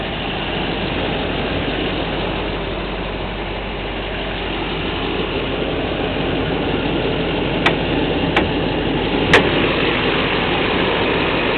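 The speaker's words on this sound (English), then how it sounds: "Sounds really good, like the diesel's supposed to." A 2008 Chevrolet Silverado 4x4 diesel pickup engine idles steadily with a low, even clatter, heard with the hood open, joined near the end by a few sharp clicks.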